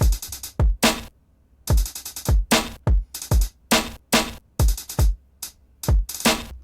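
Hip-hop beat with punchy kick drums, sharp snare hits and bright hi-hats playing in a steady, syncopated pattern, loud and up close with brief gaps between hits.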